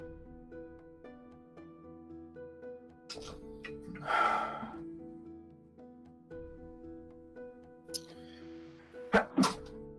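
A single sharp sneeze bursts out midway through a tabletop role-playing game session, over quiet sustained background music tones, followed by a few softer breathy sounds near the end.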